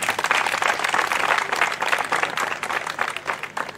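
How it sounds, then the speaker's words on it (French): A theatre audience in Parakou applauds after a staged play. The full, dense clapping rolls on steadily for several seconds, loud and close, with no speech over it. "Ils méritent bien encore un applaudissement."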